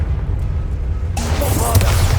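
A Confringo blasting spell goes off in Hogwarts Legacy, a sudden broadband burst landing about halfway through after a low steady rumble, then a sustained crackling roar with a rising whoosh near the end.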